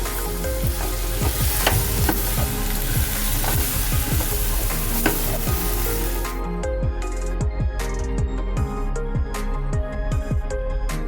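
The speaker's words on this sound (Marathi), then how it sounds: "आता मी फागला घालते त्याच्यात आणि परतते" Loud, continuous sizzling of phagla greens frying in hot oil with tempering, with repeated scraping stirs from a utensil throughout.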